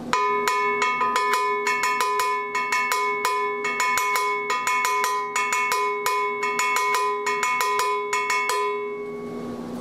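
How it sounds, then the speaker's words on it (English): A cowbell is struck right on top of the bell in a fast, steady pattern, each hit bright, metallic and clanking, ringing close and loud for about ten seconds. "I play right on top of the bell."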